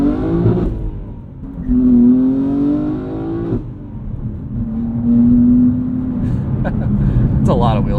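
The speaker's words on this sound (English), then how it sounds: "It's a lot of wheel spin." A 2022 BMW M3 with a manual transmission accelerating hard with wheel spin, its engine note rising in loud sweeping pulls and dropping between gears, with people talking over it.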